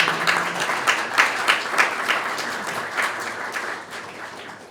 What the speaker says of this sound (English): Applause for Paul Miller.